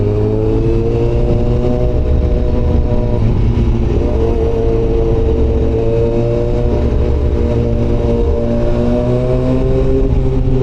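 A CBR1000RR-R Fireblade SP motorcycle engine drones loudly and steadily up close on a city ride, its pitch shifting as it revs, filling the whole stretch with constant mechanical noise.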